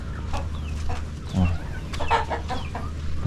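Hens clucking in short, scattered bursts, fairly close, over a steady low background hum.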